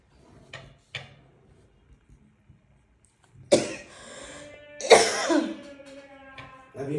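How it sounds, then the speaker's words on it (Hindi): A person with a chronic cough, with a few soft dry coughs and throat clearing early on, then two loud, harsh close coughing fits with trailing rasps, in a quiet room. "अभी खांसी बस रुकेगी नहीं, अभी जबरदस्ती"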